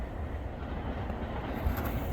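A CN freight train rolls past at night as its end-of-train device goes by, a broad, steady rumble of wheels and cars with a faint high whine near the end.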